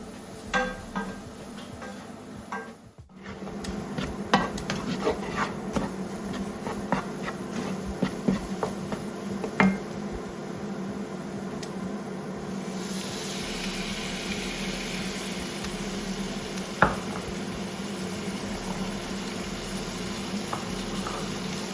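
Spices roasting in a pan over lowered heat give a steady soft sizzle with faint crackles and occasional small clicks, running continuously for the whole stretch with no voices.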